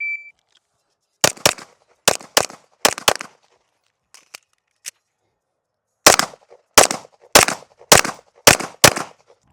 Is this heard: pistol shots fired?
yes